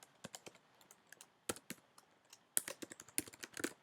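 Irregular bursts of close, crisp clicks come from typing on a computer keyboard, with short pauses between flurries and quick runs of keystrokes that grow busier toward the end.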